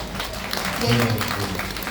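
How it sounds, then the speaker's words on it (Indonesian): An audience at a World Kidney Day talk show claps in a brief burst of applause, filling the room with a dense patter that swells and fades, with voices mixed in. "Tepuk tangan untuk saudara Bibi"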